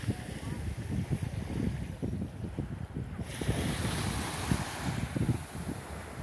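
Sea surf washes in soft, repeated breaks on a beach at Juan Dolio, Dominican Republic, while wind buffets the microphone, a steady outdoor roar at the shore.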